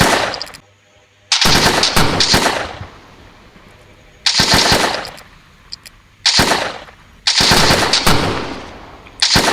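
Bursts of rapid machine-gun fire from a defensive tower in Roblox Toilet Tower Defense come loud and close, in four or five separate volleys with short quiet gaps between them.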